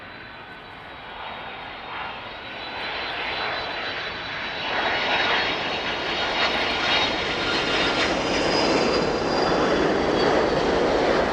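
An Atlas Air Boeing 747 cargo jet landing at East Midlands Airport, its broad engine roar swelling steadily louder and nearer over several seconds and holding as the aircraft touches down.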